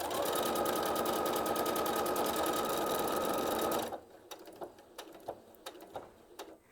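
A Viking Onyx 30 sewing machine stitches a snowflake pattern with a fast, even close whir, then stops abruptly and leaves a few light mechanical clicks and taps.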